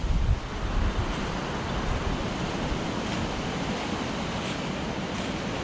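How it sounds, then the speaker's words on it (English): Wind gusting through Prehen Woods in Londonderry, a steady broad rushing roar with heavy buffeting on the microphone, loudest at the start and continuing alone without voices. "Lovely in here when the wind blows."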